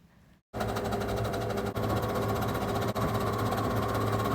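A sewing machine runs steadily, stitching the edges of a gingham dress skirt, a loud continuous motor whir starting after a brief quiet moment, with two tiny pauses along the seam.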